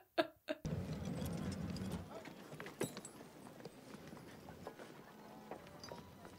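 A few sharp hoof clops ring out at the start, followed by scattered, softer clip-clops on a hard surface amid a low outdoor rumble.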